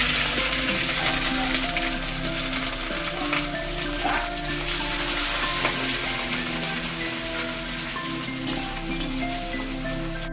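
Whole garam masala spices crackle and sizzle in hot mustard oil in a wok, a steady dense frying hiss with small pops, close and continuous throughout.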